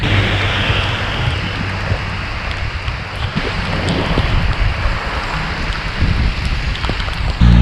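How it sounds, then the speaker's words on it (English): Heavy rain pours steadily in a dense, constant hiss, close and loud, with gusty rumbles of wind beneath it. "Pouring rain."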